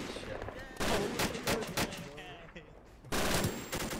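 Rapid bursts of automatic gunfire ring out in a first-person shooter, loud and close, coming in repeated volleys with short gaps. Excited voices shout over the shooting.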